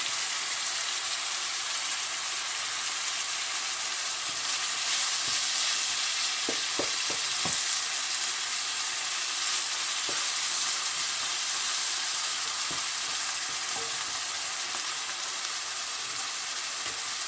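Shrimp and vegetables fry in a pan with a steady, close hiss of sizzling, broken by a few soft scrapes and clicks as the mixture is stirred; no voices.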